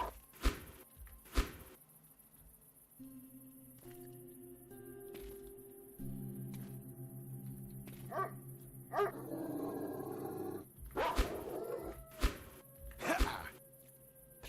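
Dogs in the video game Dark Skies 2 bark, yip and whimper in scattered bursts over a low steady game hum, some barks sharp and near, others fainter, with a brief stretch of busier noise near the end.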